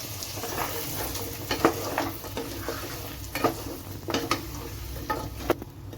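Paneer cubes sizzle in hot butter in a pan, a steady crackling fry broken by sharper clicks and scrapes of stirring, close and fairly loud.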